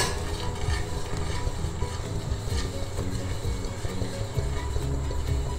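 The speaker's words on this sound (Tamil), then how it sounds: "கொஞ்சம் கொஞ்சமாக போட்டு கலருங்க." Sieved rice flour is stirred into hot jaggery syrup for athirasam, a South Indian sweet, with continuous close scraping and thick stirring under a faint steady sizzle, alone without voices.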